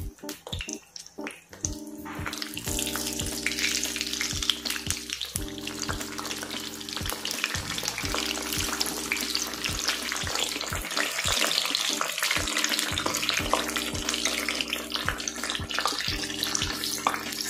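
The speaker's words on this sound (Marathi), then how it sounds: "तेल छान असं कडकडीत गरम झालं की अशा पद्धतीने त्यामध्ये वांगी सोडायची।" Eggplant pieces deep-fry in hot oil, giving a dense, loud, continuous crackle that starts abruptly after a brief quiet opening and continues under faint background music.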